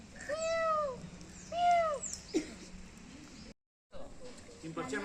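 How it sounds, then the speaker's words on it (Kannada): Two clear meows ring out in quick succession, close and loud, followed by a softer third cry, then a brief silence and faint background noise. "ಬೆಕ್ಕು"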